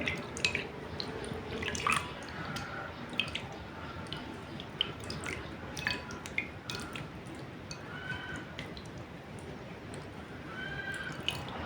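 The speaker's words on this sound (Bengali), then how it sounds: "এরপর আমি পানি দিয়ে ওয়াশ করে ফেলবো" Water splashes and drips while someone rinses their face after using a rose face wash, soft irregular drips and wet splashes close up, fairly quiet and with no voices.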